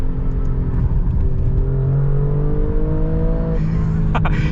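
An Alfa Romeo Stelvio Quadrifoglio performance SUV pulling hard, its engine a loud, steady, throaty roar with rising pitch as it accelerates, heard from inside the cabin, with a brief shift blip near the end.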